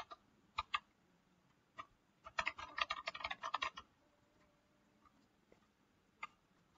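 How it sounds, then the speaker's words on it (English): Computer keyboard keys tapped to enter a password during an openEuler Linux setup: a few isolated clicks, then a dense burst of quick keystrokes, then a final tap, close and fairly quiet in a still room. "Let me type one again."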